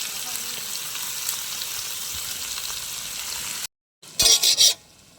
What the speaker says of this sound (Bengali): এবার আমরা কষিয়ে নিচ্ছি ভালো করে মশলা দিয়ে।